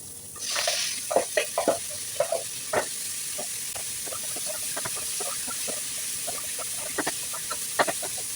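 Chicken pieces sizzle steadily in a pan, with scattered pops and crackles and a few clinks of a utensil against the pan early on.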